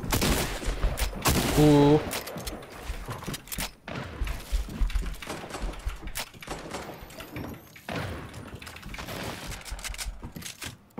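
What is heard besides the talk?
AK rifle gunfire in video game Fortnite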